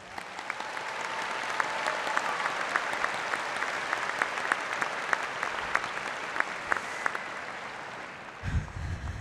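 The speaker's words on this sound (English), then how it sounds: "Let's give them a round of applause." A crowd applauds at a high school graduation ceremony, steady sustained clapping throughout that tapers off near the end.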